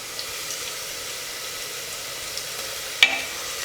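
Sliced onions sautéing in a pan for vegetable biryani with bottle gourd, a soft steady sizzle with a sharp clink of a utensil near the end.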